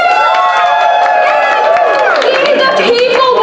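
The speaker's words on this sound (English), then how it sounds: "There's a loud cheer." Loud cheering and shouting from a live theater audience at an improv comedy show, a dense, continuous wash of voices with scattered claps filling the whole stretch without pause.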